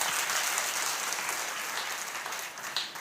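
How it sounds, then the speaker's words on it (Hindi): An audience applauds at a gathering, a dense, continuous crowd clapping at moderate distance that holds steady and eases slightly toward the end. "मैं इसको ताली बजा के धन्यवाद"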